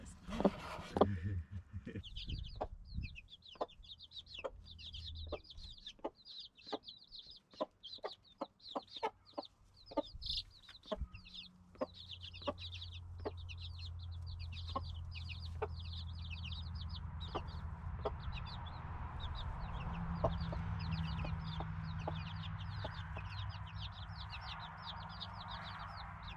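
A broody hen on her eggs clucks in steady, repeated low calls, with rapid chirpy notes running through, close and continuous in an outdoor farm setting.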